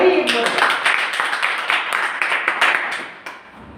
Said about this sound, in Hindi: ताली बजाओ भाई एक बार